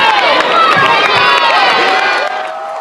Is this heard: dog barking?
no